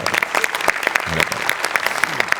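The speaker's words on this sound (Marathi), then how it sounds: "याच्यात तुझ्या लेखकासाठी जोरदार टाळ्या एकदा" A studio audience at a Marathi comedy show applauds steadily, dense clapping filling the whole stretch at a lively, even intensity.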